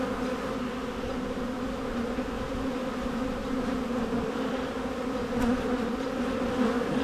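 A dense, steady buzz of many bees swarming close by in a pit, continuous and loud throughout with no pauses.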